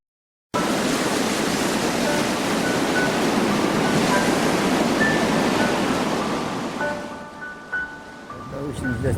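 Ocean surf on a beach makes a continuous loud broadband wash that starts abruptly and thins toward the end, where faint tonal sounds appear.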